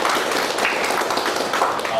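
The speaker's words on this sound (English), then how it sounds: "A big round of applause for that." Audience applause at a Bangalore income tax technical session, a dense, steady wash of many hands clapping throughout, moderately loud and close, with faint voices underneath.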